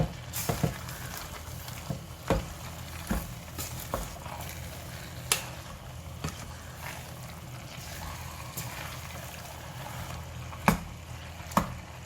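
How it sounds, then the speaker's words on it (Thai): Soft stir-frying of pickled bamboo shoots with chicken in a pan: a low sizzle underneath, with scattered scraping and clinking taps of a utensil at irregular intervals. "เอาหน่อไม้ลงไปผัดกับไก่ได้เลยนะคะ"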